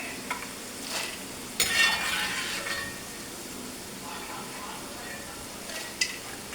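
Pieces of mature jackfruit fry in hot oil with a light sizzle. Stirring scrapes and clinks come in short bursts over a low background, and faint talk is heard now and then.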